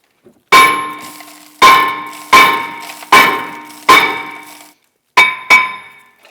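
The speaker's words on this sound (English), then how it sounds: "I'm going to use a heavy hammer and strike the back of the rotor" Heavy hammer striking the back of a rust-stuck front brake rotor on a 2009-2017 Volvo XC60, seven loud ringing metallic clangs, each decaying quickly, spaced irregularly with a short pause before the final quick pair.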